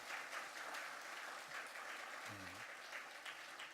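A church congregation claps to bless newlyweds standing during a Sunday service, steady, even applause heard at a low level from some distance, with a brief low thud partway through.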